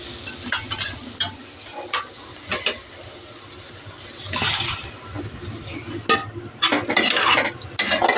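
Curd charu being stirred in a pan, with buttermilk then poured in, giving close clinks and scraping strokes followed by a longer wash of liquid and further stirring clatter.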